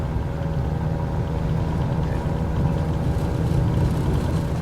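A Bücker Bü 131 Jungmann biplane's engine in a flight simulator, running at open throttle as a steady, loud, continuous drone with no talk over it.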